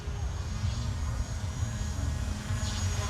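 Blade mCP X BL2 RC helicopter in flight, giving a steady, close whirring rotor drone with a low hum that holds at an even level throughout.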